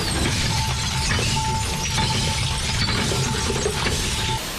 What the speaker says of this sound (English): The crusher helps break the bottles down into usable pieces